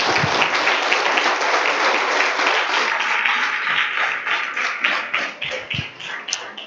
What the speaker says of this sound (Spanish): Un aplausito para el Señor, hombre